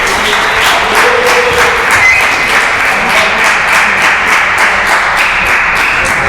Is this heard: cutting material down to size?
no